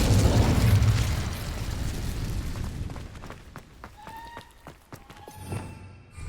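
Spell blasts in the Hogwarts Legacy video game, a fiery Incendio cast then Expelliarmus: a loud booming burst opening the moment and fading into crackling pops and bright chiming tones, no voices.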